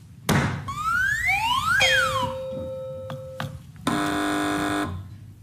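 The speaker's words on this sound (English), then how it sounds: "Fingers on buzzers, teams." Electronic game show buzzers and sound effects from a TV panel quiz ring out loudly in turn: rising and falling sweeps, a steady held tone, then a dense harsh buzz, over a busy studio background.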